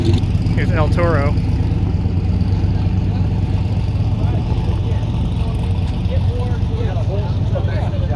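El Toro, a drag car, idles with a steady, close, rumbling engine note while someone talks over it, with a few brief higher whines rising briefly at the start and near the end.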